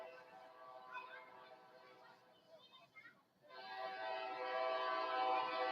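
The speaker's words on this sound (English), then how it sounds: "Oh, here comes the Kansas City Southern Railroad." A Kansas City Southern Railroad train passes, its rumble and horn-like tones swelling steadily and growing louder near the end, with a brief dip midway.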